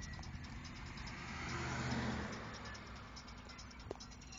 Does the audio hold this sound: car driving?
yes